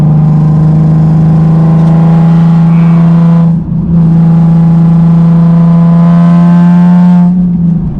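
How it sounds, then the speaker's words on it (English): A loud Nissan 370Z Nismo engine roars steadily with a raw, near straight-pipe exhaust drone, briefly dipping as it shifts before pulling hard again. "This one makes some noise. It's nearly straight pipe"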